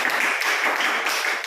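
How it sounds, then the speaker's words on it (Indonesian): A classroom audience claps for a presenter, producing a steady, dense wash of hand claps that holds at an even, fairly loud level throughout. "buat aplaus dulu buat kamu"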